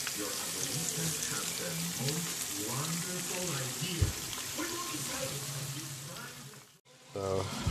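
Onions sizzle steadily in a pan with butter and olive oil, a continuous crackling hiss near the mic, with a brief clatter and a short drop-out near the end.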